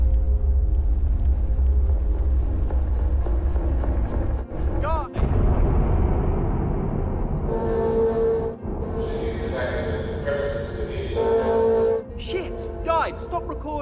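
A deep, heavy explosion rumble rolls through in the video game The Bradwell Conspiracy, a loud low roar lasting many seconds with sharper bursts and clatter layered over it.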